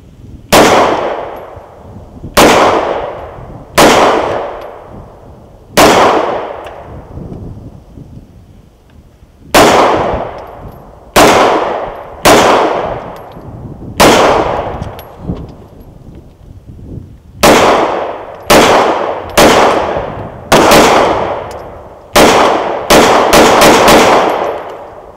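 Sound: gunshots from an FNX9 pistol fired outdoors

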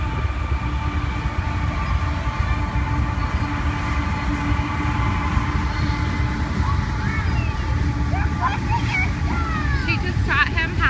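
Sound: train passing by boardwalk

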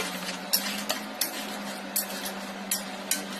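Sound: lifting pot lid and stirring cooking beef

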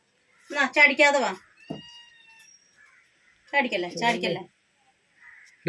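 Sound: cat meowing

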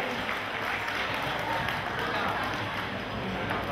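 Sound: audience applause for the association's sponsors

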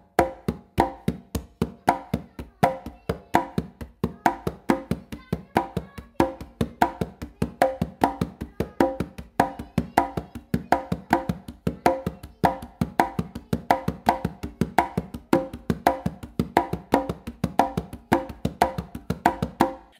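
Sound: congas playing clave independence exercise

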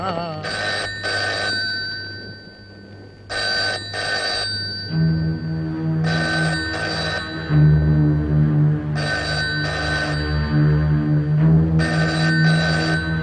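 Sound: telephone ringing

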